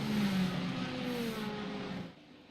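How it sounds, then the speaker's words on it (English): IndyCar-style race cars in iRacing at the Indianapolis Motor Speedway oval roar past, a high engine whine that sweeps down in pitch as the cars pass by and fade away. "You hear all the cars coming by as they're trying to burn off that extra fuel"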